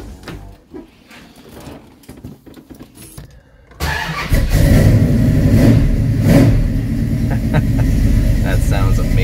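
1973 Dodge Challenger with a 340 V8 cranks and fires up, then settles into a loud, rumbling idle with blips of revving, after some handling noises and quiet talk at the start.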